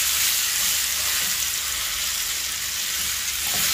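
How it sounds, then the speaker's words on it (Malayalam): Ripe plantain slices fry in ghee, giving a loud, steady sizzle that fills the whole clip while they are stirred, with faint scraping under the hiss. "ഏത്തപ്പഴം ഇട്ട് കൊടുത്തതിന് ശേഷം നല്ലതുപോലെ ഇളക്കുക."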